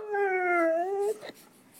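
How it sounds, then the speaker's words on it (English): A single drawn-out dog howl, loud and close, slides slightly in pitch for about a second before cutting off into a few faint sounds. "That's a loud doggy"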